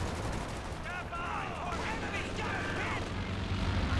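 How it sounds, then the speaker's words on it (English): Strafing run gunfire in the Company of Heroes 2 strategy game, bursts of rapid distant shots and rumbling explosions layered over busy battle ambience. "Do now the strafing run there."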